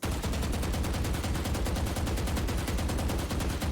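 A Vandal rifle in Valorant fires full-auto with no recoil control, a loud continuous burst of rapid, evenly spaced shots filling the whole stretch.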